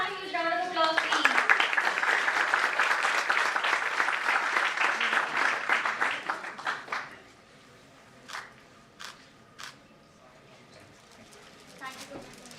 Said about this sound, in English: Darshan, can we have a huge round of applause, please?